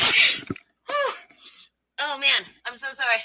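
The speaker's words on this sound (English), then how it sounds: "Oh, a sneeze." A single close sneeze bursts out at the start, followed by short exclaiming voice sounds.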